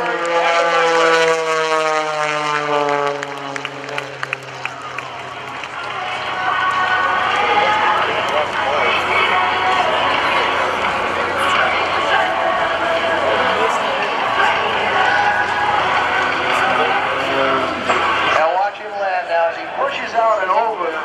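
Jason Newburg's propeller aerobatic airplane at the 2014 NAS Oceana airshow, a loud sustained engine drone with a sweeping pitch as it passes close by, then cutting lower near the end.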